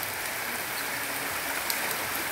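Rain pours down on an outdoor stage, a dense and even hiss of drops spattering the surface with a few sharper taps, heard alone at moderate level.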